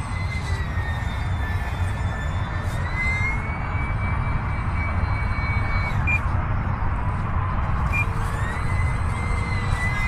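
An E-flite UMX Timber X radio-controlled model plane flies overhead, its small electric motor whining steadily and shifting in pitch as it passes, over constant loud outdoor wind rumble.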